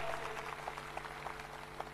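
Crowd at a political election rally clapping in a steady, dense patter that fills the space, moderately loud and somewhat distant, with no voices standing out.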